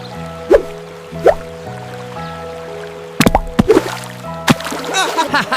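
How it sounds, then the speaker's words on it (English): Small stones tossed into a little stream in a cartoon scene, landing in a few separate wet plops and splashes, some close together, over a steady background music bed. "Let's pick up some small stones and throw them into the water."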